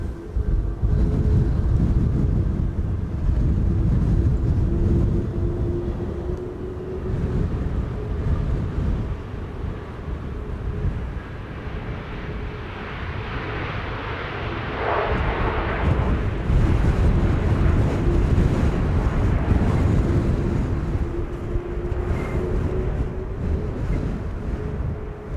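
SAS Airbus A320neo arriving from Stockholm and landing at Amsterdam Schiphol in windy weather, a loud rumbling jet roar with engine whine, heavily buffeted by wind noise throughout and swelling midway.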